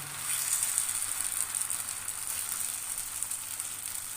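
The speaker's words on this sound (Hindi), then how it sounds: "जितना बड़ा आपने पराठा बनाना है इसके अंदर ऐड करें और चम्मच की मदद से इसे फैला दें" Corn and radish paratha batter sizzles steadily in hot ghee in a frying pan, a soft, even hiss that stays constant throughout with no talking.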